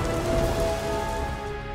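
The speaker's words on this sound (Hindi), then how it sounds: "बरसातें" Rain falls steadily, a dense, continuous patter at moderate loudness with a faint steady hum beneath it and no voices.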